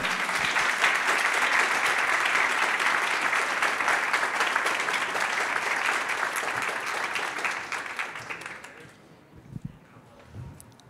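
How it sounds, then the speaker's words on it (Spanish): A conference audience at an animation industry event applauds panel speakers as they come onstage, a broad sustained wash of many hands that fades near the end, leaving a few scattered claps and faint room sounds. "Un aplauso para ellos, por favor."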